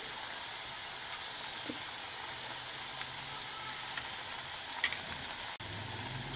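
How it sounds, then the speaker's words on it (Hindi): Chakli pieces deep frying in hot oil, a steady soft sizzle and crackle running throughout at low level, with a couple of faint clicks near the end and no voices. "एक बार में हम चार पांच पीस फ्राई कर लेंगे अब इन्हें हम पलटेंगे"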